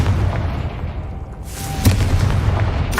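Confringo, a blasting spell in the video game Hogwarts Legacy, goes off as a loud booming explosion with a sharp burst near the middle over a continuous rumbling game background.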